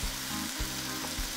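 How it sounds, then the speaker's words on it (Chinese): Vegetables and glass noodles for spring roll filling stir-fried in a wok, a close, steady sizzle broken by a few rhythmic scraping stirs. "我们就把这个全部的东西给它炒啊"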